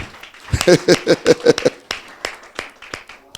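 A church congregation claps in a quick burst of about a dozen sharp claps, then scattered claps trail off, loud and close, with faint voices underneath.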